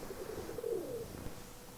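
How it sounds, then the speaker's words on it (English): Pigeons coo softly in the video game Nancy Drew: The Phantom of Venice, a few low rolling calls rising and falling over a quiet ambient background. "I hear pigeons."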